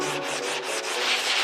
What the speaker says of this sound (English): Just a flat sanding block with a 80 grit sandpaper on